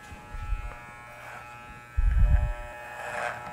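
Electric hair clippers buzz steadily while cutting a man's hair, a close, high-pitched electric drone that runs throughout, with louder bumps and handling noise as the clipper moves over the comb.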